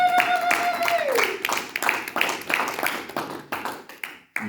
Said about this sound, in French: Applaudissons le Seigneur, notre Dieu.